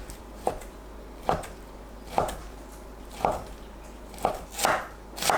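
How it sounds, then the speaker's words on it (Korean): Knife chopping ham into thin strips on a cutting board, six distinct knife strikes spaced about a second apart, close and crisp over a quiet kitchen background. "햄을 납작하게 썰고 채 썰어주세요."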